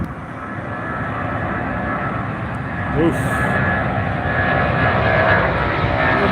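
A low-flying British Airways jet climbing out after takeoff from Heathrow on a sunny London day, a loud, steady engine roar filling the air; a person briefly exclaims over it.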